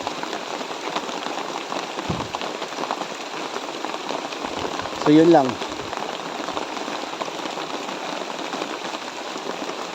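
Heavy rain pours steadily in a dense, loud hiss, with a brief voice speaking over it near the middle.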